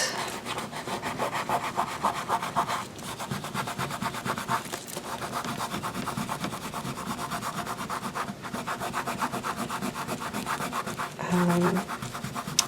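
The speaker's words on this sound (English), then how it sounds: "I'm rubbing on this, and the adhesive that's kind of coming up is balling up a little bit on my fingers" Fingers rubbing on paper in a junk mail journal to lift adhesive, which balls up. The sound is a close, continuous dry rasping with steady back-and-forth strokes and brief pauses.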